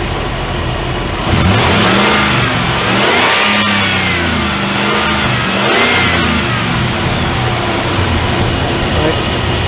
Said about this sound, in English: But that engine sounds great